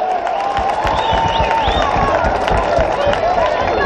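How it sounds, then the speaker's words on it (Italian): Audience at a European title kickboxing event claps and cheers between rounds, a continuous dense patter of applause and crowd noise, with an announcer's voice over it. "applauso, facciamoci sentire, grazie"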